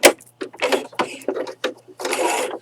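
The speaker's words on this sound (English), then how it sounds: "I'll back stitch it" A sewing machine back-stitching a fabric ChapStick holder with key ring, running in several short bursts separated by brief pauses, with a longer run at the end, close and fairly loud.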